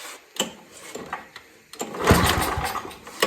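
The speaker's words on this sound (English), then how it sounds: "Let's see if I can get it up and running. Put the choke on and throttle up." Vintage Craftsman snowblower made by Snow Shark, its small engine being pull-started with choke on and throttle up: several sharp tugs, then the motor catches and runs loud and steady, close by.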